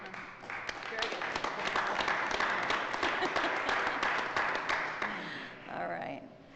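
A roomful of people at a council meeting claps steadily for several seconds. The applause swells, then fades out, and talk resumes at the close.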